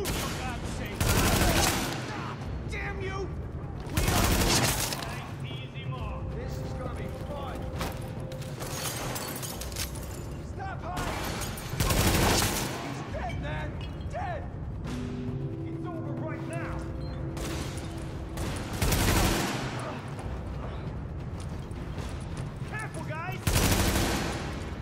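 Gunfire in The Division, heard as periodic loud bursts of shots about every four seconds over a steady background of game noise and music.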